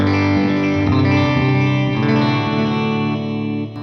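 Electric guitar played through a Line 6 HX Stomp with its effects loop engaged, a sustained, dense, distorted chorus-laden wash of chords ringing continuously and loudly, thinning slightly at the close.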